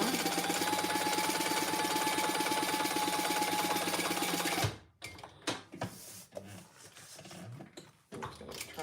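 A sewing machine running a row of top stitching on vinyl, loud and steady for about five seconds before it stops and leaves scattered handling clicks and rustles.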